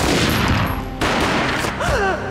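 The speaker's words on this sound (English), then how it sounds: "A gunshot boomed and she fell down in slow motion" Loud, rapid gunfire from a Max Payne video game, a dense volley of shots that breaks off and resumes, followed by a brief whooshing effect, no speech.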